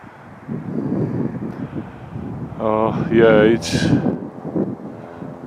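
Wind gusting outdoors beside trees at a partial moon eclipse viewing in Calgary, Alberta, a steady low rumble of moderate loudness that swells and fades, with a brief whine passing through and a voice speaking over it.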